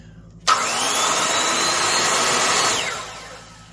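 Makita 5077 hypoid circular saw with electric brake starts with a sharp onset and runs at a loud, steady high whine, then the motor is braked to a quick wind-down near the end.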